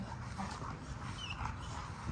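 A French Bulldog in a garage whimpers with soft, high whines and small yips over a dull, noisy background, brief and fairly faint.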